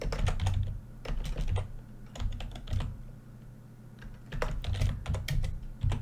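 Steady computer keyboard typing in bursts of rapid clicks with short pauses, close and clear, with no voices.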